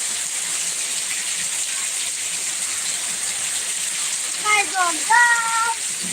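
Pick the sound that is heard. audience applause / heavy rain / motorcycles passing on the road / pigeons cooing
heavy rain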